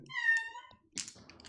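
A single cat meows once near the microphone, a clear drawn-out call, followed by brief rustling and a bit of handling noise.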